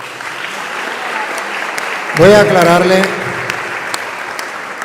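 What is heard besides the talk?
audience applause for a woman who gave testimony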